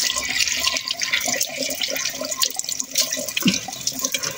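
Water splashes and pours over a flower pot being washed outdoors at a rural Punjabi home, with a continuous, close running-water sound full of drips and spatter.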